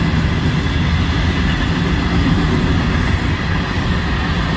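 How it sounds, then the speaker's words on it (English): A Florida East Coast Railway train rolls past in the rain, a loud, continuous low rumble of wagons and wheels heard close by from inside a parked car, steady for the whole stretch. "That's a train."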